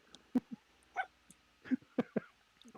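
A pet dog barks and yips in a series of short, sharp bursts, about eight spaced irregularly over a few seconds, fairly close and clear against a quiet indoor room.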